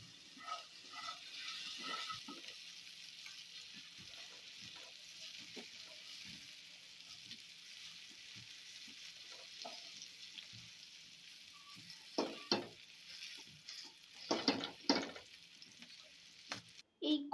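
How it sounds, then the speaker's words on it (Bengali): Food frying gently in a pan of medium-hot soybean oil, with a soft steady sizzle throughout and occasional louder spatters and stirring clatter near the end. "আস্তে ধীরে সুন্দর করে ভেজে নেব, খুব সুন্দর করে মিডিয়াম তেলটা সুন্দর করে সেদ্ধ হয়।"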